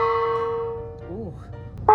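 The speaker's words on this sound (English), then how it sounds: "This is what's called a gliss gong." A struck gliss gong rings with a steady metallic hum, then its pitch bends up and back down in a short swooping wobble before a fresh loud strike near the end.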